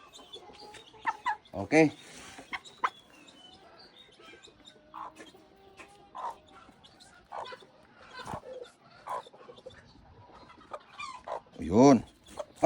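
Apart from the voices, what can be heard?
Polish (polaco) chickens clucking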